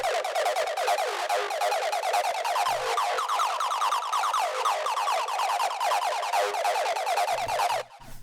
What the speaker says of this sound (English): So really quite straightforward acid 303 sound.